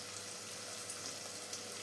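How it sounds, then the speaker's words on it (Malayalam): Shallots, chopped onion and curry leaves sautéing in a pan for a spinach and toor dal thoran, a steady soft sizzle of frying running throughout at low level with no talk. "ഇതെല്ലാം കൂടെ നന്നായി തന്നെ ഒന്ന് വഴറ്റിയെടുക്കാം."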